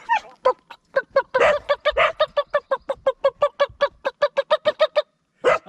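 A person imitates a wild turkey call outdoors at an old Georgia farm site, giving a loud, close, rapid run of repeated gobbling yelps in a steady rhythm, followed by a short pause and one more burst.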